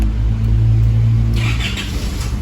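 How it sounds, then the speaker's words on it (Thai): An Isuzu MU-7 engine starts via a push-button start, a loud close rumble that settles into a steady idle, with a brief higher-pitched whir and chatter in the engine bay. "เครื่องยนต์ก็จะสตาร์ทติดนะครับ"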